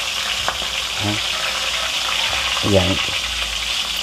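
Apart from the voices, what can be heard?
catfish (hito) frying in oil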